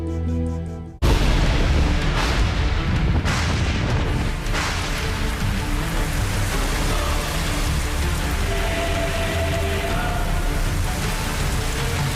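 Heavy Indian monsoon rain pours down in a steady, dense roar that starts abruptly and continues loud and unbroken, with a few dull thumps beneath it.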